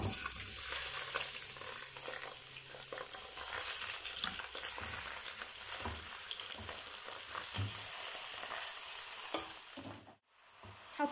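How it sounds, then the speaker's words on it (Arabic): Street-style sausage frying in a small amount of oil in a pan, a steady close sizzle with scraping and clattering stir strokes throughout, briefly cutting out near the end before resuming. "حطيت السجق، هفضل اشوح فيه."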